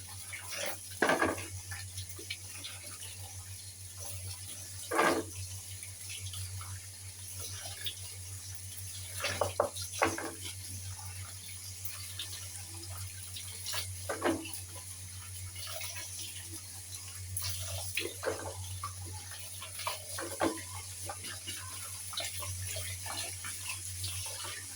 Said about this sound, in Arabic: نغسلها بقى كده تحت الميه عشان لو فيها اي حاجه فيها